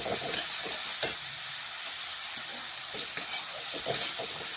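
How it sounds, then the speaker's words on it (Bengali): Ginger, cumin and green chilli paste stirred in a hot pan for vegetarian sago khichuri, with steady close sizzling and frying hiss broken by a few sharp spoon scrapes and clicks. "এখন দিচ্ছি আমি আদা, জিরে, কাঁচা লঙ্কা বাটা, ভালোভাবে একটু মিশিয়ে নেব।"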